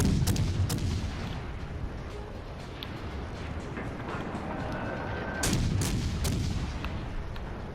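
Naval artillery in the World of Warships Legends video game, heavy booming salvos over a rumbling battle background, with a couple of sharp loud blasts near the start and another cluster around the middle.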